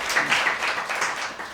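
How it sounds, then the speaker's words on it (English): Audience clapping for student debate candidates at a university union chairperson and speaker election event in Kampala, a short steady burst of close, dense applause with no talking. "Clap for them."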